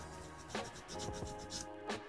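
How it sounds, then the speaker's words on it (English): Hand sanding of a toy car tire while the tire is rotated: quiet, scratchy rubbing strokes repeat unevenly at close range. "I just start sanding it and rotating the tire with it"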